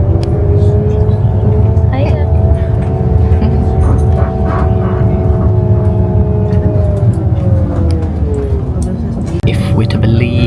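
A bus carries passengers on a cruise port excursion, its engine drone and road rumble loud and steady throughout, while people talk nearby.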